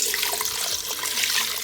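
Water pours into an Instant Pot for a zero-carb chicken gizzard dish, a steady broadband splashing rush that runs without a break for the whole short stretch, with no one talking over it.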